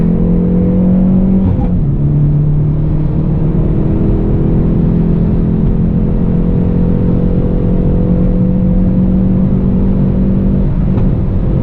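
A Hyundai Veloster N accelerates hard on the Charlotte Motor Speedway road course, its engine droning loud and steady from inside the cabin, with two brief dips where gears change before the pitch climbs again.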